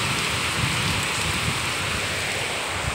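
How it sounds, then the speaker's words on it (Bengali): Heavy rain pours down steadily, a dense, unbroken hiss of drops drumming on surfaces close by, pooling at the base of flowering plants. "প্রচণ্ড বৃষ্টি হচ্ছে, জল জমে গেছে ফুল গাছের গোড়ায়"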